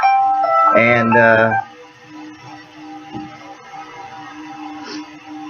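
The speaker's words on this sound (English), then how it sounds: "that was my phone alarm going off" A phone alarm rings with a short bright melodic chime near the start, then stops, leaving a quieter background hum with a spoken word.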